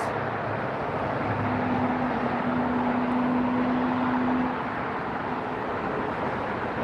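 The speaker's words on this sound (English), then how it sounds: "If that's that Frontier jet, those brakes are really loud." A jet airliner at LAX airport rolling out with loud brakes, a steady broad roar that fills the whole stretch, with a faint whining tone running through the middle before easing slightly near the end.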